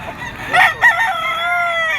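A rooster crows at a crowded Bocaue gamefowl market, a Boston yellow-legs bird among others: one loud, close crow rises and trails off in a long held note over steady market background.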